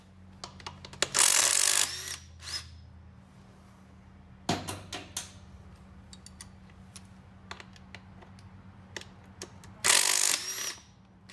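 Hand tools clatter and tap on a two-stroke motorcycle's top end as the cylinder head mounts are removed, with two longer bursts of loud hissing noise and scattered sharp clicks in between, close and without talk.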